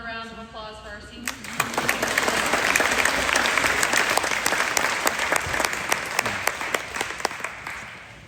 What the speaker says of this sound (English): Another round of applause for our seniors.